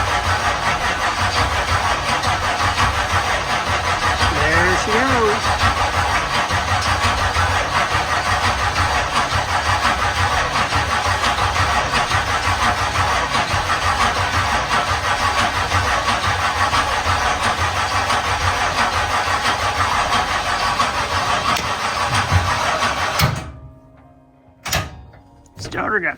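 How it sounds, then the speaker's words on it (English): A Midwest Modified race car engine cranks and runs loud and rough for most of the stretch, then cuts off abruptly, leaving brief clunks and rattles in near silence. "starter got stuck. Okay, hopefully that cranking brought some fuel up."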